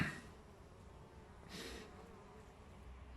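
Faint buzzing of honeybees foraging outside the hive in autumn, a low hum with one slightly louder pass of a bee near the middle, set against quiet outdoor background.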